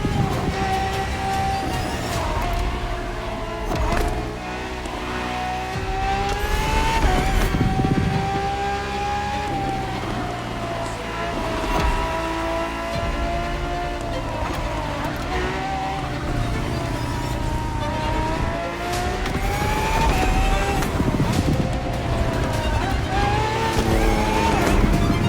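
A Ferrari FXXK race car drives hard in The Crew Motorfest, its engine revving up and down through gear changes with occasional tyre squeal, loud and continuous over a spoken narration.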